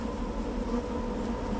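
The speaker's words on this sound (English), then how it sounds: "A light tap on their hive is enough to bring the insects out in their thousands." Killer bees pour out of their tapped hive in the thousands, a faint, continuous droning buzz of the swarm with no talk over it.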